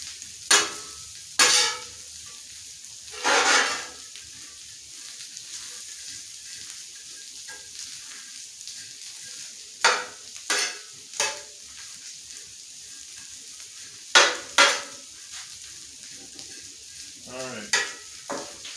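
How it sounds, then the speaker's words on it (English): Beef frying in a pan with a constant soft sizzle, broken by several sharp bursts of louder crackling and stirring scrapes, close-up. "Oh man, the beef is starting to heat up in there."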